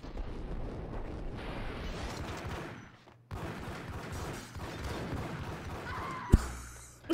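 Rapid gunfire and explosions from the Max Payne video game, dense loud bursts of shooting that stop abruptly, resume, and end with a sharp crack.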